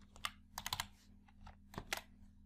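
Keys on a computer keyboard clatter in short bursts of quick taps, close and fairly quiet, with brief pauses between clusters.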